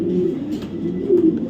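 Racing pigeons from a club loft give a close, low, throaty coo that rises again near the end, steady and alone without talking.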